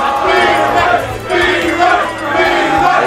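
Split crowd at a Super Smash Bros. tournament match cheering and chanting loudly in rolling waves, with voices blending into a dense roar.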